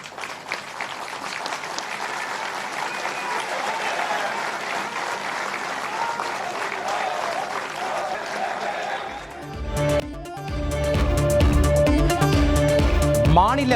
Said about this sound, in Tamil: எழுந்து நின்று கைத்தட்டிய பார்வையாளர்கள்